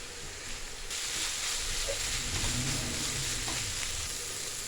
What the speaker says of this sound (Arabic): غادي نخلي داك الخيزو حتى يطيب